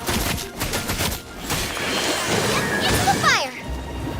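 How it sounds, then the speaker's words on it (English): Falling icicles crash in Genshin Impact. Loud, dense shattering and clattering runs steadily throughout, and a sharp sweeping magical tone rises near the end. "The icicles up ahead are falling!"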